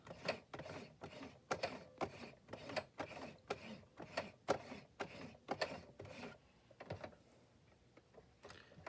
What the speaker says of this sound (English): I'm going to do a quick stitch around here, just a straight stitch. I may have to hand crank it.